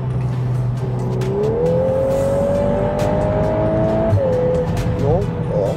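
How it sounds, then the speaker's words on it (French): A Volkswagen Golf 8 R engine revving in race mode, loud and close, pitch climbing steadily through the revs then dropping with quick shifts, with tire noise underneath. "Le mode race, j'ai l'impression que ça monte moins dans les tours."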